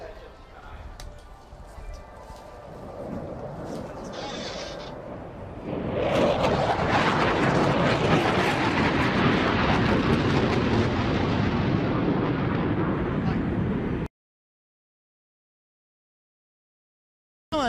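An Italian Air Force Tornado IDS jet at an air show roars in from a distance, building abruptly into a loud, broad, sustained engine rumble that holds for several seconds before cutting off.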